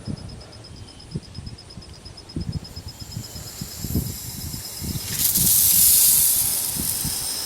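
Compressed air rushes out through the valve of inground sprinkler zone 2 with a steady close hiss, swelling into a louder, sharper spray burst near the end.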